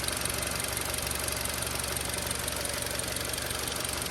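A Dacia Duster's small petrol engine idles steadily up close, a smooth, even rumble with a faint rhythmic ticking throughout.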